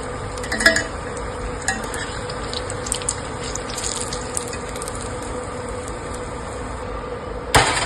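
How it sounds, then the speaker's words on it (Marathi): Vegetable pieces are deep-frying in hot oil the way potatoes are fried, giving a soft, continuous sizzle with a few faint clinks and stirring knocks, heard alone. "जसे आपण बटाटे तळून घेतो त्याप्रमाणे हे सगळे तळून घ्यायचे आहेत."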